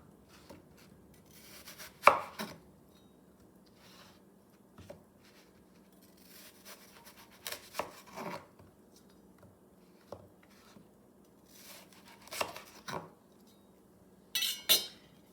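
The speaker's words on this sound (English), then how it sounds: "I'll quarter each apple up. And take out the center, just kind of cut it at an angle like so." A knife chops through quartered apples on a cutting board for an apple crisp, with sharp irregular chops and clicks on the board, close and fairly quiet, with pauses between cuts.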